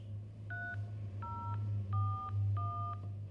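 Four short telephone keypad DTMF tones are dialed at an even pace on an automated phone line, each a clear two-pitch beep over a low steady hum.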